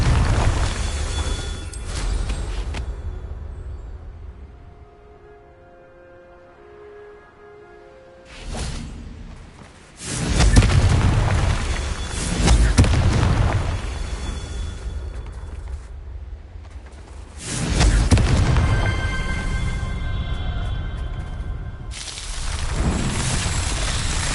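Fiery Confringo spell blasts in a Harry Potter wizard video game burst out as loud, booming explosions, coming in several separate rumbling waves with quieter stretches of low hum between them.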